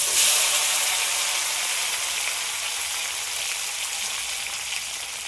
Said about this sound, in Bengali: রসুনটা একটু হালকা করে ভেজে নিয়েছি এবার এর মধ্যে টমেটো কুচি দিয়ে